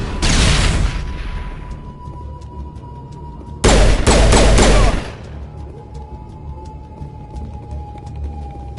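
Grenade blast and gunfire in the Mass Effect video game: a loud burst of automatic fire and a heavy booming explosion, then a second intense blast-and-fire burst a few seconds later, with a low ringing tone in between.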